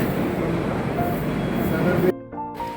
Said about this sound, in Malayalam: ഇതാ ഞങ്ങൾ ട്രെയിൻ എത്തിയിട്ടുണ്ട്